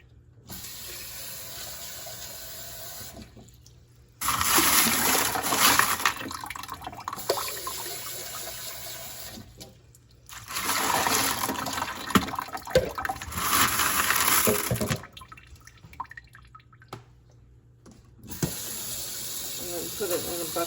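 Tap water runs in several bursts into a sink and bucket, rinsing polished Lake Superior rocks among ceramic media, with steady splashing gushes separated by pauses.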